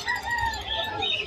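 Chickens cluck while a rooster crows briefly in the background at a pet market in Malabon, a short burst of fowl calls.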